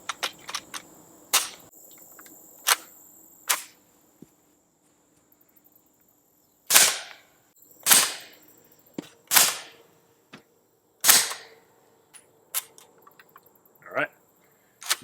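Suppressed Heckler & Koch MP5SD firing 9mm 124 grain +P HST rounds about five feet from a chronograph, several sharp reports spaced a second or more apart, loud and close, with fainter clicks and handling noise between shots.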